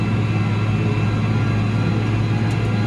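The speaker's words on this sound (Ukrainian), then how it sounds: "бачите, пробуксовує трактор." A tractor pulling new discs across a very wet field where the wheels slip. A steady, loud low engine drone and rumble runs unbroken throughout, with no voices.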